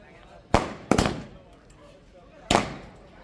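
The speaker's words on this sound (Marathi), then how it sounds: "फटाक्यांची आतषबाजी केलेली आहे." Firecrackers burst on a roadside during a celebratory fireworks display, three sharp loud bangs, two close together and one after a pause, each trailing off with a crackling decay.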